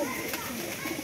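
Pigeons crowded inside a net at a bird sale coo in a soft continuous murmur, close and dense, for a brief moment.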